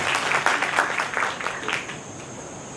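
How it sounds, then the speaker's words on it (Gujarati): An audience at a Jain religious talk claps together in a brief burst of applause that swells early and then fades. "તાળીઓ, ખરેખર તાળીઓ."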